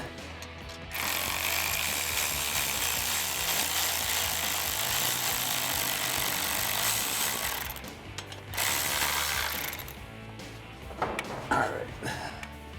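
A ratchet tightening the pipe clamp on a stock exhaust of a Jeep Wrangler JL 3.6L, a continuous close whirring clatter for several seconds, a brief pause, a second short burst, then scattered clicks and taps.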